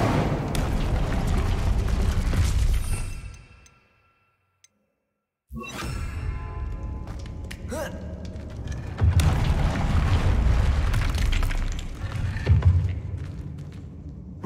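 An Incendio fire spell in Hogwarts Legacy bursts with a deep roaring whoosh and rumbling booms, cut by a brief silent gap, then more crackling blasts and surges of fiery rumble, loud and close.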